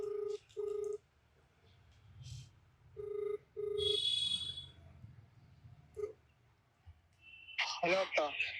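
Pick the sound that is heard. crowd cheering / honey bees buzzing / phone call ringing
phone call ringing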